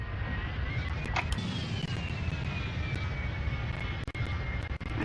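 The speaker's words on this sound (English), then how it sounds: "I think we're just about ready to start the engines." An Airbus A321 engine spools up in the Extreme Landings flight sim, a steady, loud broadband roar with a thin rising whine and scattered soft clicks, no voices.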